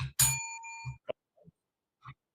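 A bicycle bell rings in a bright, close burst that trails off, followed by a few faint soft knocks and small handling sounds in a quiet room.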